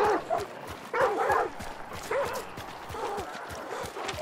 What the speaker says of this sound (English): It's me alerting the dogs.